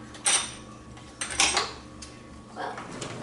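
Kitchen utensils clink and clatter as someone rummages through a drawer for a whisk, with a few sharp metallic bursts separated by quieter pauses, close and fairly loud over a low background hum.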